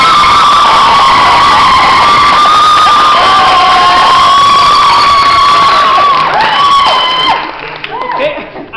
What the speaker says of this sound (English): If you think the motion should be carried, clap now.